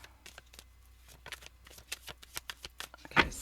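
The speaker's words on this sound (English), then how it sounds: "Let's do a shuffle here" Message cards being shuffled by hand, a run of crisp riffling flicks and taps at an uneven rhythm, close and fairly quiet, ending in one louder rustling burst as the deck is squared.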